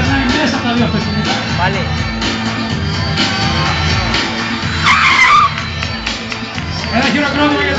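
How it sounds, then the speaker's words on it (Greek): Car skidding through a J-turn 180-degree spin at a Paul Swift stunt driving show, tires squealing in a loud burst amid crowd noise and continuous announcer talk. "με το J-turn, δηλαδή θα κάνει 180."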